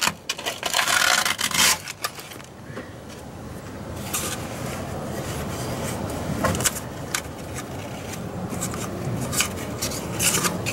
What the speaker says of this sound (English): But 60 grit sandpaper, clean that right up.